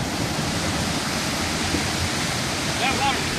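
Spring water rushes steadily in a stream at an old mill, a loud, constant broadband splashing and gurgling close by, with a brief voice heard over it near the end.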